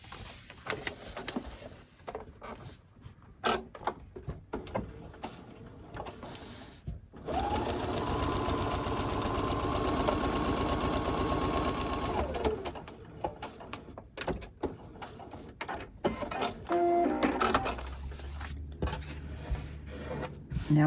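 A sewing machine stitches a paper-pieced quilt block for a February sew-along: a steady, fairly close whirring run of about five seconds in the middle, with shorter bursts of stitching and fabric handling around it.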